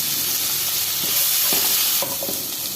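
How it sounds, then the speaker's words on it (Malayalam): Sliced onion sautéing in a pan for a kothu chapathi, a constant frying hiss with a few soft stirring knocks toward the end, no talk. "നന്നായിട്ട് വഴറ്റിട്ട് ലേശം ഉപ്പിടണം."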